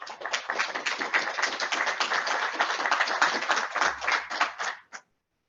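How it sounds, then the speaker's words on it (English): Audience applause welcoming a speaker at the Space Florida SSIB 2023 opening, a steady dense wash of many hands clapping for about five seconds before cutting off abruptly. "Applause in this group is not necessary, I can tell you."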